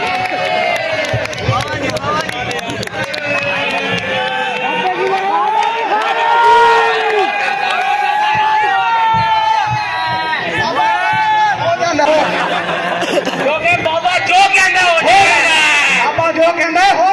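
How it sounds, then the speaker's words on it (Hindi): Crowd at an outdoor bonfire party for a wedding celebration, loud and continuous, with many overlapping shouting and cheering voices forming a dense, steady roar. "तो आप सबकी भरपूर तालियों में पेशे खिदमत है बाबा छूछड़क"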